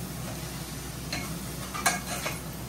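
Jackfruit curry cooks in a pressure cooker with a soft, steady sizzle. A few faint clinks and stirring scrapes sound over it, with no one speaking.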